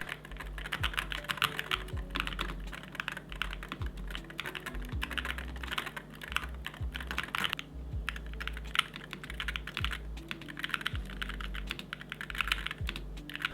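Steady typing on an ASUS 96HE Hall-effect mechanical keyboard, close and quiet, with deep, muted, dampened keystrokes in a quick, uneven rhythm and no talk.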